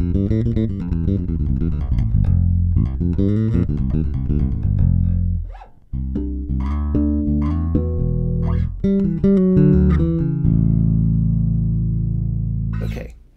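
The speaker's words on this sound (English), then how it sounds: "So this is what the bass sounds like." A bass guitar plays a run of low, punchy notes with a brief pause midway, then continues with sustained tones that ring out at the end.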